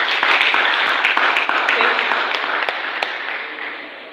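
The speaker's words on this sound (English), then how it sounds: "So can I get a round of applause for that?" A workshop audience claps in a steady round of applause, a dense wash of many hands that holds for several seconds and then gradually fades.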